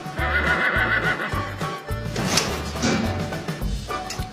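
A computer-generated horse in a train driver simulator whinnies loudly and repeatedly over a pulsing low rumble, the neighs close and shrill.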